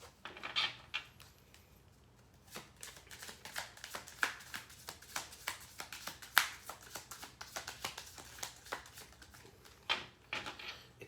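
Tarot cards are shuffled quietly up close, a rapid run of soft riffling flicks and taps in uneven bursts, with no talking.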